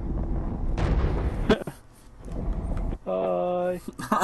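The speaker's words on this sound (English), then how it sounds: "You're getting shot at." Gunfire and blasts from a firefight in Borderlands 2 fill the opening, with heavy low booms and bursts, then a quieter stretch before a sustained tonal mechanical roar; people talk over parts of it.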